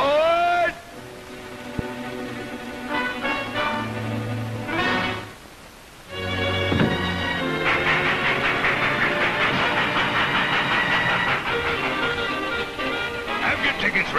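A steam train hisses and chugs, with a loud whistle-like tone and rattling carriages; voices briefly speak over the rolling noise.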